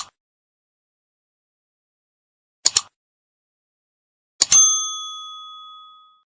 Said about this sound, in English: we gotta get that little bell